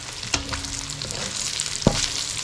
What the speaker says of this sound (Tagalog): nagpiprito na rin po ako ng spam